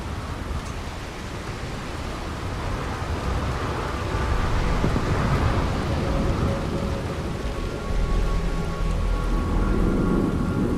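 Steady heavy rain with rolling thunder rumbles over Neon, the lightning-powered city in the video game Starfield, a dense continuous storm wash with deep booms swelling and fading throughout and no voices.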